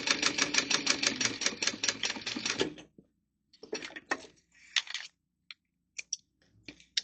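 A sewing machine stitching a zipper seam on a small fabric wristlet: a dense, rapid, evenly pulsing run of stitches for about three seconds, then a few short separate bursts with gaps of near silence.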